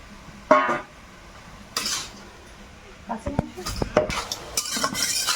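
Fried prawns and crab being stirred into cooking greens in a pot, with a few sharp scrapes and clanks of a utensil against metal, separated by quieter pauses.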